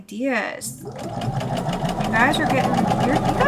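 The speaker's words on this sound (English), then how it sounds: "Tammy, I cannot understand a word you're saying when the sewing machine is going" A sewing machine runs with a rapid, even mechanical chatter close by, while a voice talks over it the whole time and the motor drones on beneath.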